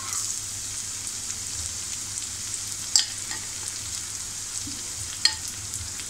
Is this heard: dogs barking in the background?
no